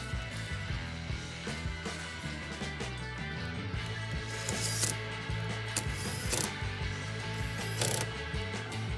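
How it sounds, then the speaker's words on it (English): A ratchet tightens the three screws on the side mirror of a 2016-2025 Chevy Malibu, giving close, steady clicking and rubbing mechanical sounds over nine seconds. "Now we install the plug and the screws. Installing all 3 screws one by one."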